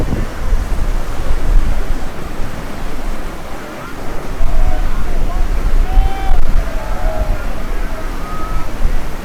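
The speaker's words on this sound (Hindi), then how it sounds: "आप अगर पीछे देख पा रहे हो माँ गंगा बह रही है और क्या ज़बरदस्त करंट है इस पानी में" The Ganges flows with a strong current at Rishikesh, a loud continuous rushing roar mixed with wind buffeting the microphone and faint higher tones drifting over the water.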